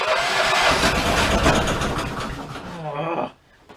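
A Dingo mini loader engine cranks on a weak battery, a loud, steady mechanical churn lasting about three seconds before cutting off abruptly into near silence.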